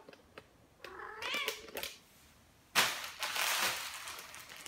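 A cat meows several times in short, strained cries, with a longer, louder yowl near the end, close by in a quiet kitchen where instant noodles are being made.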